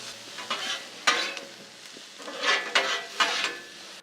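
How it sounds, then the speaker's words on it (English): Onions and peppers sauté in avocado oil on a Blackstone griddle as a spatula scrapes and tosses them, making bursts of bright scraping over a light sizzle, about five or six strokes in a loose rhythm. "And get these onions, get these peppers nice and sauteed"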